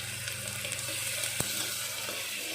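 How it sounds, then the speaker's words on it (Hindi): Asafoetida, cumin, onion and garlic sizzle in a pressure cooker, a steady close frying hiss with a brief clink partway through. "तो प्याज और मैंने हींग जीरा प्याज लहसुन ये डाल दिए हैं कुकर में।"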